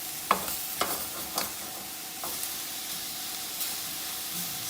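Carrots, red onions, garlic and ginger sauté in a pan with a soft, even sizzle, marked by a few faint clicks and stirring scrapes early on, then a quieter steady hiss.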